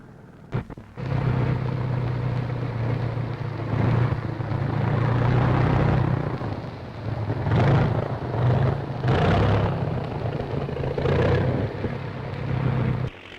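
Engine of a 1941 training airplane on its first takeoff in New Zealand, a loud, steady droning roar that swells and eases slightly as it runs, heard alone.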